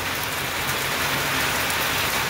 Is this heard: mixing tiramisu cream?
no